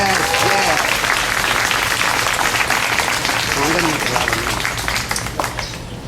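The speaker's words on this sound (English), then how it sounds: "please give them a round of applause" Applause from an audience at a middle school moving-up ceremony, steady and full for several seconds, with cheering voices and speech mixed in before it slowly eases.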